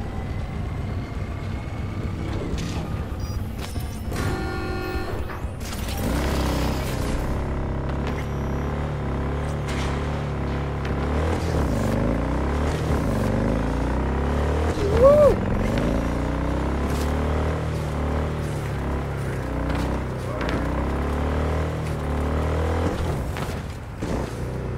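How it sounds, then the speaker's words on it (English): A motorcycle in Cyberpunk 2077 rides and pulls wheelies, its engine droning steadily and rising and falling in revs for over twenty seconds, with some talk early on. "Pretty decent with the bike too, and the wheelies"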